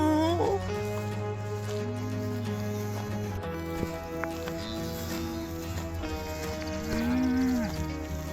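Cattle on a farm with a cow and her newborn calf, several drawn-out moos at moderate distance over a steady low hum, with faint background noise throughout.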